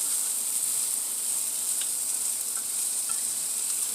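Potatoes, peppers and onions frying in a pan give a steady, even sizzle with small crackles, close and alone with no talking.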